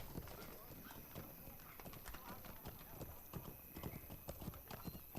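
In the video game The Lord of the Rings Online, rapid clip-clop of horse hooves at a brisk, steady pace, with a horse snorting or whinnying and voices talking over it.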